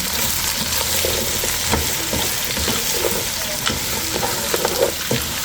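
Onions fry in a pan with a steady close sizzle, broken by repeated scraping and clacking as a utensil stirs them, irregular but continuous throughout.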